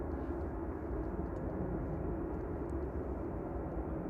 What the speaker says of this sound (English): A380 is finally on the move